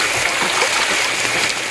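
A garden hose set to a light mist sprays a steady, hissing shower over ducks, loud and close, with a continuous watery rush that never lets up.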